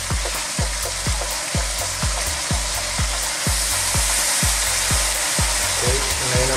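Soaked sotanghon noodles and vegetables are stirred in a hot frying pan, with a loud continuous sizzle and regular thumping strokes of the utensil against the pan, close and without talk.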